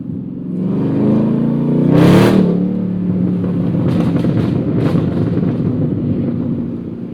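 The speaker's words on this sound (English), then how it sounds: "This exhaust sounds crazy, man. Like it really sounds like gunshots." A Chevrolet Camaro exhaust crackles and pops over a steady, close engine drone with wind noise, with one loud burst early on and a few sharp pops a couple of seconds later.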